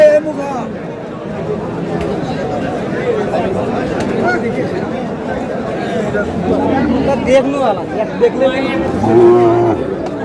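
Cattle for meat at a livestock market in Chattogram, with a cow lowing near the end above a constant murmur of buyers and sellers talking and haggling.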